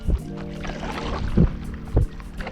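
A carbon paddle dips and pulls through the water beside a 12'6" touring stand-up paddleboard, with three or four distinct splashing strokes and trickling drips between them, close and moderately loud outdoors.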